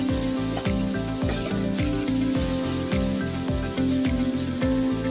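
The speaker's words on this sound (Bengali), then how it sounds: "এখন ওই প্যানে আমি আলুটাকে ভেজে নেব হালকা লবণ দিয়ে" Potatoes frying with a little salt in a pan for a Bengali koi fish and potato curry, a steady close sizzle running throughout with rhythmic repeated clatter from stirring or the pan.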